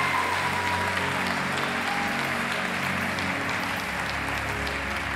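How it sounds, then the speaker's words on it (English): A large church congregation applauds steadily throughout, a dense, continuous wash of many hands clapping at an even level in a big hall, with no clear speech over it. "Let's hold the applause for a second."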